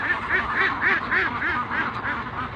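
Ducks on a duck farm quacking in a rapid, repeated series of loud, nasal calls close by, several birds overlapping in a steady rhythm.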